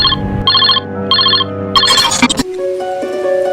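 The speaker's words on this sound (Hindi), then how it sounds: "अचानक से मेरे मोबाइल की घंटी बजी" A phone ringtone plays in repeated short electronic bursts, loud and close, before switching to a different sustained tone.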